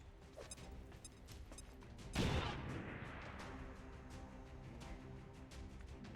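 A frag grenade explodes in the video game XCOM 2 Long War of the Chosen, a single muffled boom with a crumbling tail over a low, steady game ambience.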